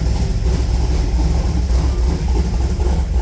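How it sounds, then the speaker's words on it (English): A 355 small-block Chevy V8 in a Firebird, warming up after a valve adjustment, idles with a steady, deep rumble continuously at close range, loud and even, with no talking. "let this thing warm up so that I can get an accurate warm engine idle"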